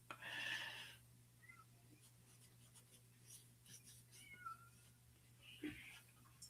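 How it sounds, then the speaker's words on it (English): A cat meows at a door, a few short faint calls spread out over a quiet room with a steady low hum underneath. "I've got a cat at the door."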